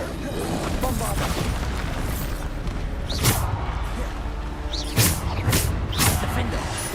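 Bombarda spell explosions go off during Hogwarts Legacy combat, several sharp booms against a busy, dense game soundscape with a cluster of blasts toward the end.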